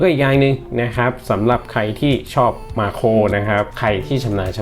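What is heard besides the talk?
None of the usual background noises is heard.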